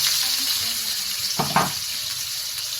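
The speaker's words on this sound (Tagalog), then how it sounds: "Prito lang po natin uli yan mga lods." A hotdog fries in a pan of oil for a menudo dish, giving a steady close hiss of sizzling with a brief louder crackle midway.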